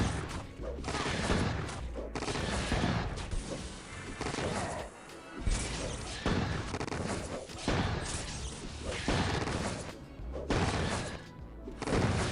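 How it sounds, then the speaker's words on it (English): Gunfire and crashing impacts in the action game Silverfall Earth Awakening form a busy, steady wash of combat noise that rarely lets up. "I'm actually shooting him now"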